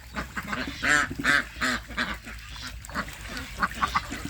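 A female duck quacks several times in short bursts at close range, a few raspy calls spaced irregularly over a few seconds.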